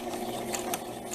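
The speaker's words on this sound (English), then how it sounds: "I'm sewing that little tiny corner that will finish off the satin" A sewing machine stitches satin trim onto a blouse, a quiet, brief run of rapid mechanical whirring with soft ticking, close and even.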